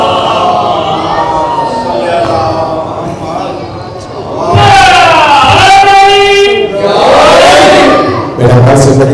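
A crowd at a Muharram majlis in a Karachi azakhana chants salawat loudly in unison, the massed voices swelling twice after someone speaks over a microphone.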